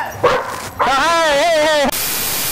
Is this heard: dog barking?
yes